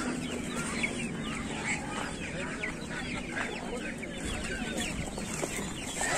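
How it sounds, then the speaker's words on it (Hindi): Chickens cluck and squawk continuously at a crowded market in Dimapur, Nagaland, with many birds calling over one another and a steady background din. "Chicken market."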